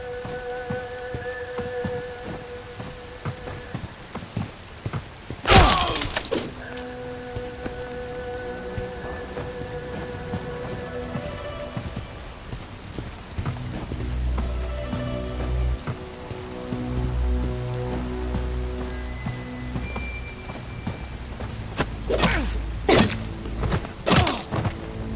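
Rain falling in the video game Bright Memory Infinite, a steady patter on surfaces broken by a sharp thump and scattered heavier impacts, with faint tonal game sounds underneath.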